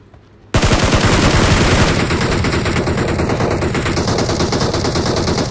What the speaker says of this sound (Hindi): मेरे को वो दिख रहा है गोली चलाता हुआ